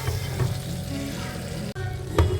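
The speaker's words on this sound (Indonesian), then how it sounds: "Kita tumis sampai wangi ya teman-teman." Rendang spice paste with galangal sautés in a pan, giving a steady, close sizzle with occasional stirring scrapes and clinks.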